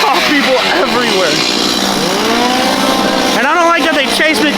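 Revving chainsaws at a Halloween scare zone at SeaWorld's Howl-O-Scream, loud rising and falling engine whines overlapping close by over a noisy crowd with people talking and yelling.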